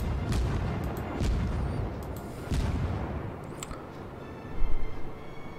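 Naval gun salvos from a level 1 cruiser, the Erie, in World of Warships: a series of deep booming shots in quick succession, loud and rumbling with heavy low-end thumps, no voices.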